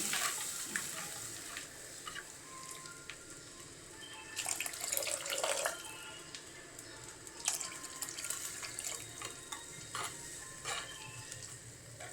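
Water runs and splashes steadily into a pan, with a louder gush partway through, close by and without voices.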